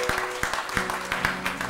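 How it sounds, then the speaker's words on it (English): A church congregation claps hands in praise during a Sunday morning service, a brief run of sharp, fairly regular claps close by, several hands together. "can we give her one more hand clap of praise for the Lord on this morning?"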